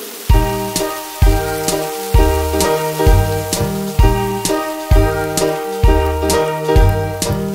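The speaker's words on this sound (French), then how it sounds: "Oh, il pleut." Rain sound effect in a French children's song, a steady hissing patter layered under a repeating bright melody and rhythmic chords, with no singing at that moment.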